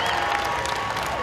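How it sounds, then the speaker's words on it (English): Audience applause at the Jungle Cruise global premiere, a dense wash of clapping from a crowd with faint voices mixed in, steady and fairly loud through the whole moment. "Big love and applause for the real Disney Jungle Cruise skippers here"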